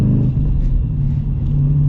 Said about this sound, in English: we are getting up and moving yet again. Sounds so beefy.